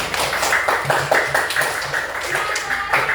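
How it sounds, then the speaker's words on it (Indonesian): Classroom children clapping hands together in a quick, rhythmic patterned clap, roughly a dozen crisp claps at a steady beat, close and loud with a few voices underneath. "Kita kasih tepuk tangan untuk kita."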